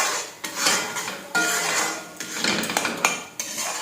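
Shrimp being stirred and fried in a pan for Bengali prawn malai curry, with a metal utensil scraping and clattering against the pan in repeated strokes over a steady sizzle, close and fairly loud, no talking.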